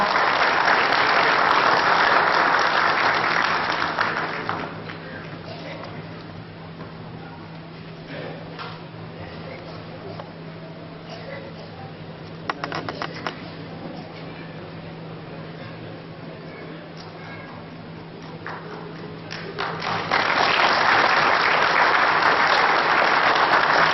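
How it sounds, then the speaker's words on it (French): Applause swells loudly from a crowd at a petanque masters awards ceremony in Madagascar, fades to a low murmur with a few scattered claps and a steady hum, then surges back into full clapping near the end. "Grand applaudissement."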